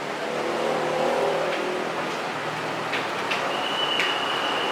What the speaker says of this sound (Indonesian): Truk sampah. Truk sampah.